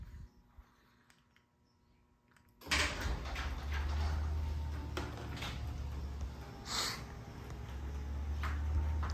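After a quiet moment, a Martin DC3700e garage door motor starts up with a sudden steady mechanical hum as the door opens, running continuously with faint rattles.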